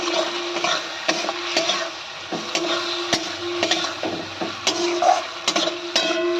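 Spoon repeatedly scraping and tapping a pan as ground poppy seed paste is stirred into frying drumstick vegetables, rhythmic wooden knocks over a continuous sizzle.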